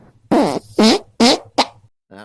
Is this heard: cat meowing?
no